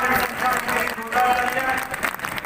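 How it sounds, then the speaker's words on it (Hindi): Audience applause for the people from Bhopal at a Meena community gathering, a dense steady patter of many hands filling the hall, with an announcer's voice speaking over it. "तालियां एक बार भोपालियों के लिए"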